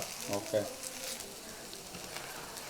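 Vegetables sizzle faintly in a multi-maker pan, a soft steady frying hiss with brief louder crackles early on, close but quiet.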